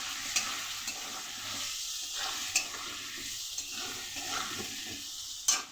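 Potato pieces seasoned with salt and turmeric fry in hot oil in a steady, close sizzle, with a few sharp clinks and scrapes as they are stirred.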